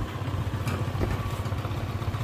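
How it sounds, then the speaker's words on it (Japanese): A Honda Super Dio scooter engine idles low and steady, a soft rhythmic putter that chugs on without revving, close by. "ちょっとアイドリング低いかな。"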